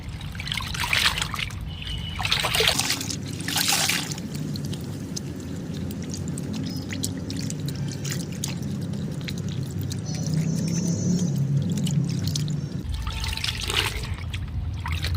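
Water trickles and splashes steadily as a cotton nightie is swished and squeezed in a basin, continuous sloshing with brief louder pours, no talking.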